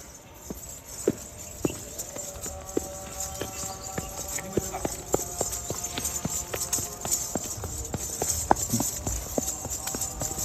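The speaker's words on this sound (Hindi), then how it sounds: "देख सकते हो कैसे चल रही है रॉकेट की जैसे" A Rajasthani wedding mare walks briskly, her hooves striking hard ground in a steady, sharp clip-clop that carries on throughout at close range, with faint voices behind.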